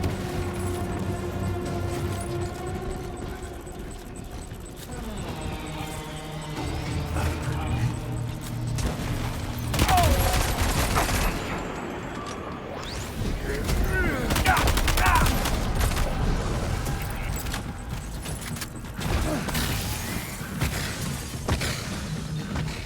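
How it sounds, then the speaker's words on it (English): Airstrike explosions and gunfire in the video game Death Stranding 2, with repeated heavy booms and bursts of shots at about ten and fifteen seconds over a rumbling battle backdrop, with in-game voices and effects mixed throughout. "He's dropping airstrikes on me."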